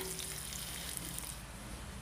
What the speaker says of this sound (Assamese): এই পিয়াজখিনি মই অলপ সময় ভাজি লম